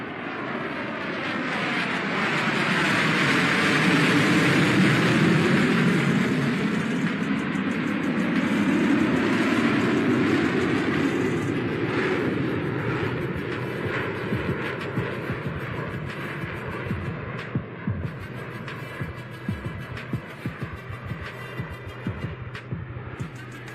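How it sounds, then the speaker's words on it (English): A fighter aircraft flying a low speed turn at an air show, a loud sweeping jet roar that swells and shifts in pitch as it passes, then fades into a rougher distant rumble. "will now demonstrate the low speed turn capability of this marvelous aircraft"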